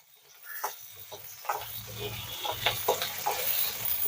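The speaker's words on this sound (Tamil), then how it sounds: "இந்த வெங்காயம் பூண்டு ரெண்டுமே நல்லா வதங்கட்டும்" Onion and garlic frying in oil in a pan for a fish curry, with a quiet sizzle that builds and intermittent scraping stirs, faint and close.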